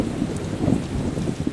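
Torrential rain and storm from Cyclone Gazani over eastern Madagascar, a steady dense hiss of downpour over a low rumbling roar, brief and unbroken, with no voices.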